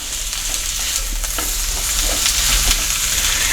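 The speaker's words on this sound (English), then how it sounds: "put them in the warm pan with your olive oil. And these are just going to saute." Sliced peppers and onions sauté in olive oil in a warm pan for chili, a steady, close, broadband sizzle with soft crackles and occasional stirring scrapes, no voices.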